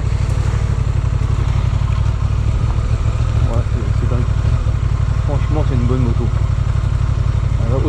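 A Honda Transalp 750 motorcycle engine runs steadily while riding, a constant low throbbing drone with some clatter, while voices talk over it.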